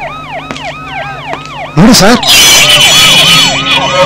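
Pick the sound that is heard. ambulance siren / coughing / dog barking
ambulance siren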